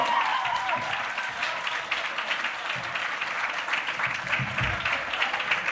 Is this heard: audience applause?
yes